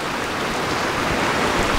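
Heavy rain pours down outdoors during a photoshoot, a dense, even hiss of falling water that stays loud and steady throughout, with no voices.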